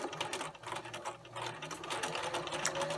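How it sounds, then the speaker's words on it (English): A sewing machine runs a straight stitch along a 1/4 inch seam allowance on a fabric Valentine treat bag, its fast steady whir holding close and continuous for the whole stretch with no talk. "you're going to sew or stitch with a straight stitch a 1/4 inch seam allowance along each of the long sides"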